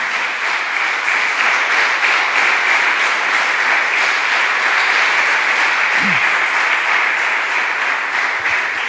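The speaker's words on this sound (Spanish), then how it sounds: "Dele un fuerte aplauso al Señor" A church congregation gives a long, strong round of applause, with dense, even clapping continuing at a constant level from start to finish.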